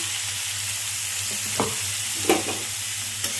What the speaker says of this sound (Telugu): ఇప్పుడు ఫ్రై చేసుకుని ఈ ఆయిల్లోనే ఈ ఆనియన్స్ వేసుకుంటామండి